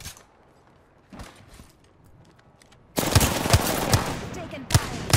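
Apex Legends gunfire: a few faint shots at first, then a loud, dense burst of rapid automatic fire with sharp individual cracks that keeps going to the end.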